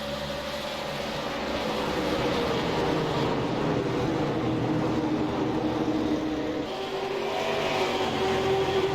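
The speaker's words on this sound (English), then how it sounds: "Love the sights and sounds of these cars." Super late model race cars roar around the track at Milwaukee in a continuous, droning engine blur, with pitch sweeping up and down as the cars pass and no voices heard.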